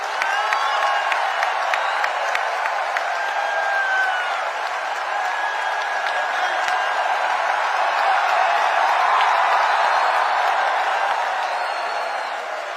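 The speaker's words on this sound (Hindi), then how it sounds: "जोरदार ताली बजाइए।" Loud, sustained applause and cheering fill a large hall at a Chhattisgarh NHM employees' union convention, a dense wash of clapping that holds throughout with no pause.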